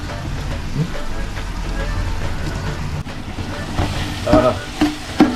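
Ginger garlic paste fries in hot oil for a Hyderabadi fish curry, giving a steady sizzle with occasional stirring clinks and scrapes toward the end, under a faint background voice.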